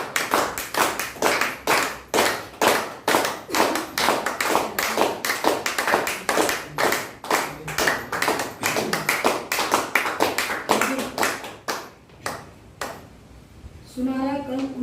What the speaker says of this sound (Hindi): तो हम चाहते हैं कि सबके लिए एक जोरदार तालियां हो जाए।